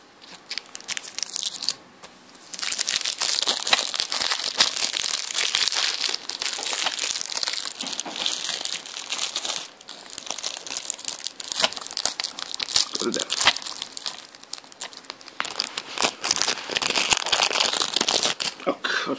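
Plastic shrink-wrap foil being torn and crumpled off a BioShock Infinite game box, a loud, close, continuous crinkling and tearing that runs almost unbroken for the whole stretch, with one brief pause early on.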